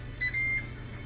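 An air fryer beeps once as it is set to 390 degrees, a short two-part electronic beep over a low background hum.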